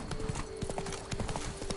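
Rapid hoof clip-clops from a horse walking in The Witcher 3 video game, close and busy over a faint game ambience and a steady tone.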